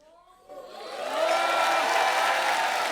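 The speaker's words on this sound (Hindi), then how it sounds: "एक बार साजिद भाई के लिए जोरदार तालियां हो जाए।" Studio audience applause on a Hindi comedy talk show swells from silence into loud, sustained clapping and cheering from the crowd, rising within a second and holding steady to the end.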